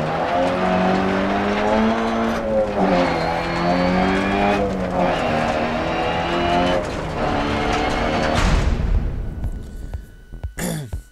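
A rally car in the Dirt Rally video game drives hard on a loud, continuous engine drone with shifting revs, tires scrubbing and skidding, before a sudden crash-like burst near the end and a brief clatter after.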